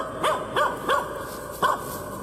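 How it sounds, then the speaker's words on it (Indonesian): A dog in a village gives four short, hoarse cries in a row, spaced about a third of a second apart with a longer pause before the last. Each cry is fairly close and clear, and there is no talk. "Lalu seekor anjing melolong panjang dari arah ujung kampung."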